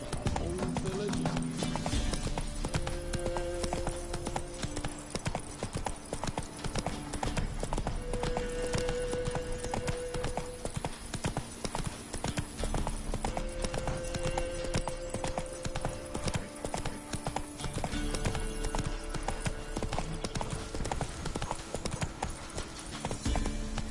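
Horse hooves clip-clop at a steady gallop in The Witcher 3 across most of the stretch, close and continuous with a short whinny and game voices talking over it.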